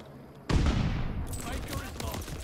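Gunfire in a Call of Duty Vanguard multiplayer match: a sudden loud burst of shooting that continues as dense rattling fire, close and harsh, with another shot flaring up later.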